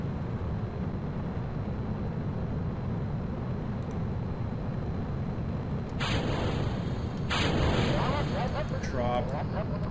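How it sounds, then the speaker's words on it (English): Rocket engines fire in Kerbal Space Program as a steady, heavy roar throughout, with brief bursts of crackle and a voice speaking over the later part. "Let's start all of the engines here."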